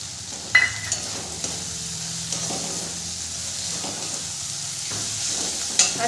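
Garlic paste frying in a pan makes a steady nearby sizzle with stirring scrapes and a few soft clinks of a utensil against the pan, and no one speaks.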